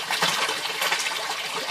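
Water gushes and splashes steadily through a homemade aquaponics system, a dense, continuous rushing pour with bubbling texture, close and fairly loud, with no voices over it.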